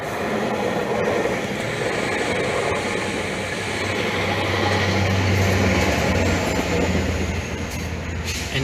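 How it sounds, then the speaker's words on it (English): A Caltrain train passes Hillsdale station, a loud continuous rumble of wheels on rail with rhythmic clatter and faint squeal running the whole time, close by and without speech. "There goes the 307 to San Francisco."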